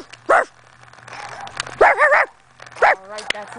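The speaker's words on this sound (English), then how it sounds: "There's a dog outside!" A dog barks outside in three short, loud bursts spread across a few seconds, with people talking and exclaiming between and over the barks.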